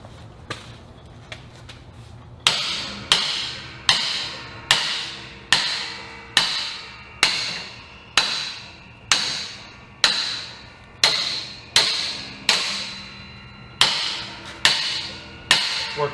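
A hammer knocks a greased mechanical part back into place with about a dozen loud, evenly spaced metallic blows, close up, after a few lighter taps at the start.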